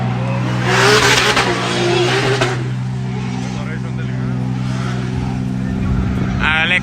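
Drift cars practise for the Cyprus Drift Championship, engines droning and revving at a distance with a brief tire squeal, while an announcer talks over the noise.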